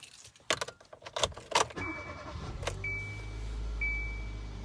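Keys jangle and click near the start of a 2014 Kia Soul, then the engine cranks and catches into a low, steady idle that continues quietly to the end.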